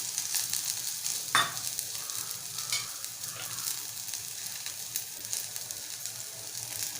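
Chopped onion and grated dry coconut fry in a pan with a steady, close sizzle, along with occasional scraping stirs and one sharper clink of a utensil early on.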